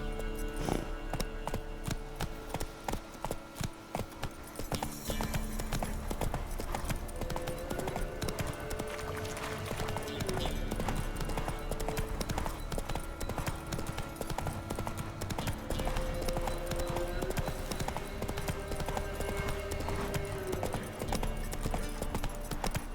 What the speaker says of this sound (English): horses racing